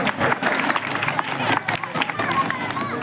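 Children clapping loudly at a primary school Republic Day event, a dense burst of applause and crowd noise with voices mixed in.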